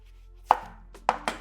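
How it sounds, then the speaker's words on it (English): Onions being chopped on a cutting board for an Egyptian dinner, three sharp knife strikes spaced apart, close and clear with no talking. "let's go ahead and cut these onions"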